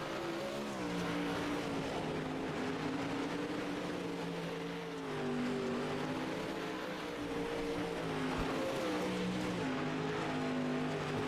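Several Pro Late Model race cars warm up at Volusia Speedway, a loud continuous engine drone with shifting pitch as they circle the track, steady and unbroken throughout.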